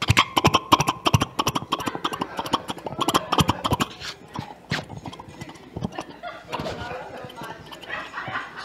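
A preacher imitating a horse's hoofbeats with his voice: rapid, sharp clip-clop clicks in a steady galloping rhythm, close and fairly loud, giving way to looser vocal noises toward the end.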